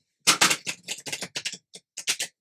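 Crisp, rapid riffling of a tarot card deck being shuffled, a quick burst of flicks followed by a few separate snaps, close and clear.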